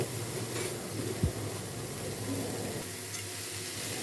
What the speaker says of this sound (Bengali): পেঁয়াজ কুচি গাজর বিনস এগুলো সব কেটে রেখেছিলাম সেগুলো আমি সব তেলে দিয়ে দিলাম